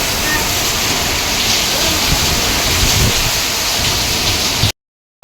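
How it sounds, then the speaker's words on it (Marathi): Heavy rain pouring steadily in Mumbai, a dense hiss and patter close by, cutting off abruptly into silence near the end. "मगाशी भरपूर पाऊस पडत होता"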